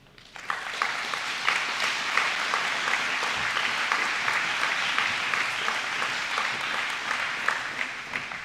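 Audience at a charter school commencement ceremony breaking into sustained applause, a dense, even roar of clapping that starts abruptly and holds steady, with scattered sharper claps on top.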